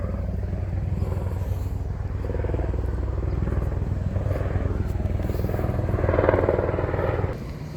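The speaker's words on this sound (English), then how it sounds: "look, a little helicopter up there" A small helicopter flies overhead, its rotor thumping as a steady low chopping drone that swells slightly toward the end, with faint talk underneath.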